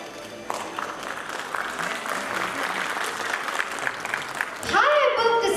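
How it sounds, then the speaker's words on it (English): A school audience at a golden jubilee celebration gives a big, sustained round of applause welcoming young performers to the stage, steady dense clapping that swells louder near the end as music or a new sound enters. "welcome them to the stage with a huge round of applause"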